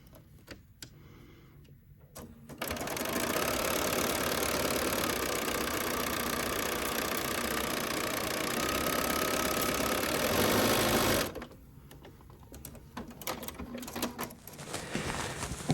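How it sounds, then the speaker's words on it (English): Sewing machine stitching pinned quilt tulip block pieces together, a steady loud mechanical whir running continuously for about nine seconds, with quieter handling sounds before and after. "and then go to my machine and sew."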